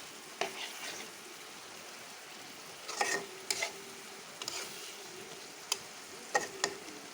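Fish cooks in a pan with spices and onion on a gas stove, a soft background sizzle broken by scattered sharp scrapes and clinks of stirring, fairly faint and with no talk.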